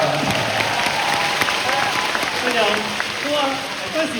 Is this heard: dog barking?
no